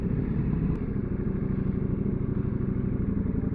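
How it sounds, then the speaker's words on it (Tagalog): Motorcycles ride by on a road, giving a dense, steady engine rumble with some mechanical clatter that stays loud and close the whole time, with no talking. "Madaming bike dito."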